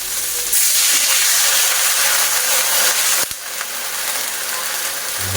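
A glass of water hits a hot cooking pan, sending up a loud, sustained hiss of steam and sizzling close by, with a brief clatter partway through before the hiss settles and carries on.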